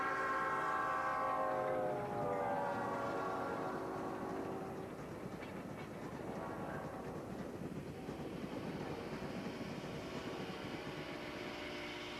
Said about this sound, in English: a beautiful Lackawanna passenger train is just leaving on its way to West Dunsmuir